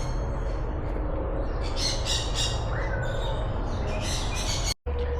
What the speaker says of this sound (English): Here's a cockatoo.